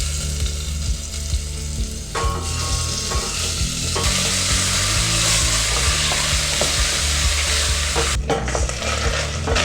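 Beef curry pieces frying in oil in a pan while being stirred, a loud continuous sizzle with repeated scraping and clinking of the utensil against the pan.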